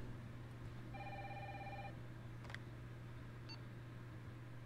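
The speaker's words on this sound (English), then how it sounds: "There's the phone." A telephone rings in Resident Evil 3 Remake, giving one short electronic ring burst that sits faintly over a steady low hum, with a couple of small clicks after it.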